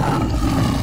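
A toy lion's recorded roar, loud and sustained, fills a brief moment from a toy animal truck play set.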